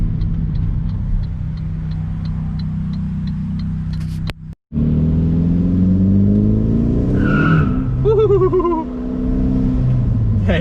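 2001 Saab 9-3 Viggen pulling hard uphill in second gear, engine droning loudly inside the cabin with a brief cut, then rising revs and tire squeal from wheelspin, with faint voices.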